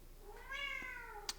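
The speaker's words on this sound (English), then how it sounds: "my cat." A house cat gives a single drawn-out meow that rises and falls, heard up close in a quiet room, followed by a short faint chirp.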